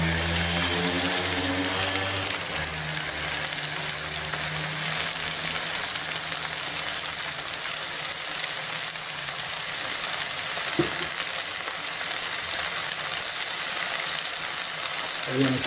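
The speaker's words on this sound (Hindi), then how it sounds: "इसको 2 मिनट के लिए हमने जो है मज़ीद भून लिया है" Potatoes and mogra vegetable fry in a pan, giving a steady, continuous sizzle with faint stirring, close and moderately loud throughout with no talk.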